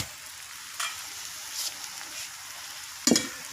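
Meat hits fried onions in a hot pan, raising a continuous frying sizzle with stirring noises and a sharp scrape near the end, without speech.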